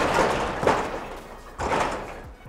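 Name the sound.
garage door being shaken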